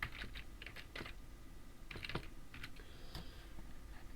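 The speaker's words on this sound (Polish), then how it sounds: "Wybieramy jakiś tytuł, wpisujemy go tutaj" Fast key clicks from someone typing a title on a computer keyboard, heard in short irregular bursts with small pauses between them, close and fairly quiet over a low steady room hum.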